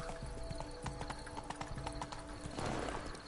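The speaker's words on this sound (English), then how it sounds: "Horsey." Horse hooves clip-clop steadily in Witcher 3, a quick rhythmic trot of hollow knocks over continuous game ambience, with a brief louder swell of noise near the end.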